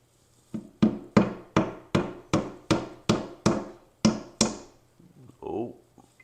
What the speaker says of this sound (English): now we're going to hammer them into the side.